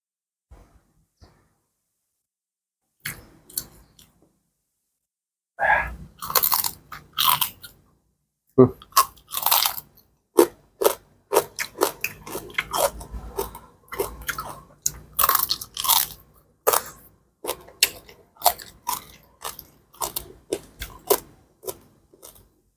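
Crispy grilled pork belly with skin being bitten and chewed, loud close crunches in bursts after a quiet start, with a few soft breaths between bites.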